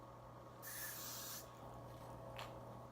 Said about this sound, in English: I'm just gonna take the hairspray again